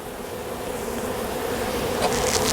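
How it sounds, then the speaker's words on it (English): Honeybees from a shaken package hive fill the air with a steady, dense buzz of many wings, close and continuous, with no talk over it. "we're just going to give them one shake so that we have plenty of bees covering that queen"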